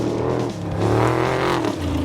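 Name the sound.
Class 1 off-road race car engine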